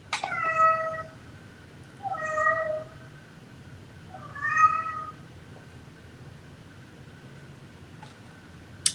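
A cat meows three times at roughly even intervals, each a clear, fairly close call with a slight whine, separated by quiet room noise.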